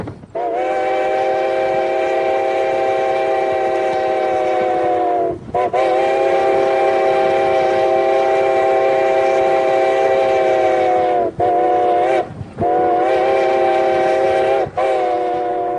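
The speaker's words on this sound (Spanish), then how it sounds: "Ante un paso a nivel, oiréis dos silbidos largos." A locomotive horn blares in long, loud sustained blasts approaching a level crossing, cut by brief gaps near the end, with steady rail rumble underneath.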